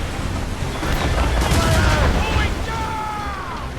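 Ship cannons fire in repeated booming volleys during a naval battle in Assassin's Creed Rogue, loud and dense, with shouted voices and a musical score layered on top.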